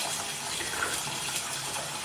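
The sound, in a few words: rainwater running from a tap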